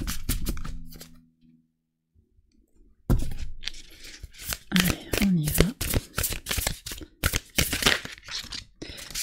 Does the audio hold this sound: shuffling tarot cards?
yes